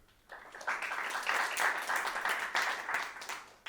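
An audience at a stand-up comedy show breaks into steady applause that swells quickly and holds for a few seconds before tapering off.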